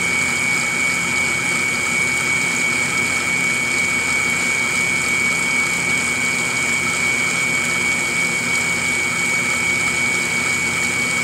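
The vacuum pump of a Brewer Science CEE 100 spin coater runs continuously, giving a loud, steady hum with a constant whine and no variation.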